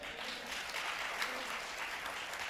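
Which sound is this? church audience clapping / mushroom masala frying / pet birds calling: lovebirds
church audience clapping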